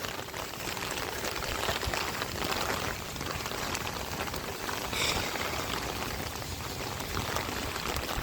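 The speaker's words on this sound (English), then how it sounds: "it's been raining all day today" Steady rain pouring through a Florida yard on a day of constant downpour, a dense, even hiss of drops on surfaces with some running water, continuous and fairly close for the whole stretch.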